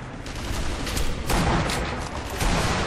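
Dense enemy gunfire in the World War II shooter Sniper Elite V2 crackles in rapid overlapping volleys with heavier booming shots, loud and close, continuing without pause.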